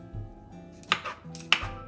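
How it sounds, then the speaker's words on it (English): A vegetable peeler scrapes along a broccoli stem in a kitchen, two sharp close strokes about half a second apart over a quiet background. "You can use a vegetable peeler like this."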